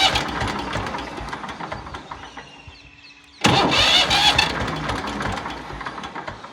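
A diesel tractor that has run out of fuel cranks without catching, first a long grinding starter run, then after a brief pause a louder, harsher burst of cranking, close and with no voices.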